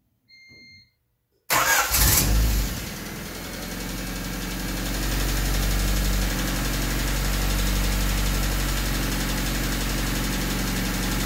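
A Honda car with a D16Y8 engine and a freshly cleaned throttle body and idle air control valve cranks briefly, catches with a loud burst, then settles into a steady, close idle with no talk.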